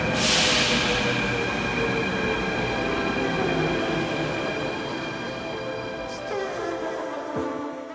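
An Athens metro train runs loudly and close, with a sustained rumbling roar, high-pitched wheel squeal and screeching tones that taper slightly toward the end.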